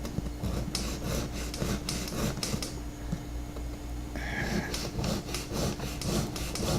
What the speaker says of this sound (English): I'm just going to take it and run it across my sanding stick here, or emery board